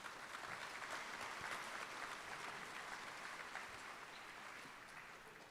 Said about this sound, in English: Let's give them all a round of applause, if you will.